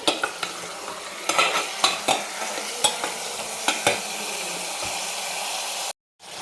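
Mutton being stirred and sautéed in a pan over a high flame, with a steady frying sizzle broken by repeated scraping stir strokes, close and fairly loud, ending in a brief silence.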